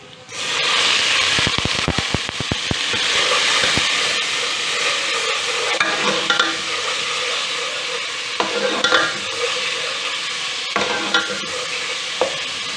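Ginger garlic paste hits browned onions in a hot pan, giving a loud, steady sizzle and hiss with crackling pops and a few sharp clicks of stirring near the start, continuing throughout.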